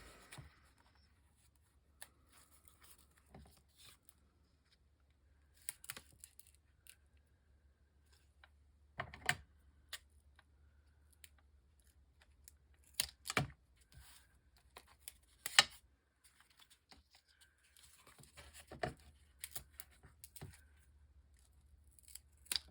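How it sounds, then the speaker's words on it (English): 3D foam tape being cut with scissors and pressed onto the back of a paper craft piece, heard as scattered close snips and crisp rustling taps, quiet and intermittent with no talking. "for that level I am going to take some 3D tape and put on the back"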